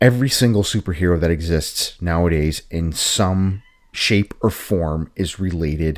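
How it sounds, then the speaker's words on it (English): A house cat meows in the background, its drawn-out cries rising and falling beneath someone speaking steadily in the foreground. "Sorry if you hear my cat in the background."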